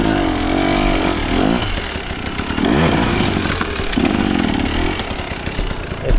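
A GasGas dirt motorcycle in fourth gear on an enduro course revs hard and close, its engine note rising and falling in repeated surges as the throttle is worked.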